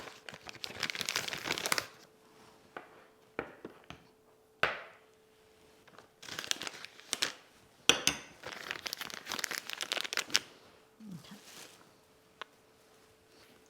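A plastic piping bag crinkling in the hands while piping crosses onto gluten-free hot cross buns, irregular close bursts of crackling with quiet pauses between.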